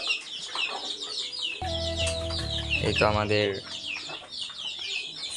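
Chickens cluck in a backyard coop with busy, overlapping calls and higher chirps close by, while a person talks over them.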